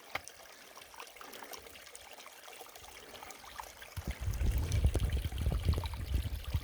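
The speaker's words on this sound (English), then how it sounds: "Nice little waterfall in the trail here." A small waterfall on a mountain trail in the Adirondacks trickles and splashes softly outdoors, growing louder and fuller partway through as the flow becomes a steady rushing pour.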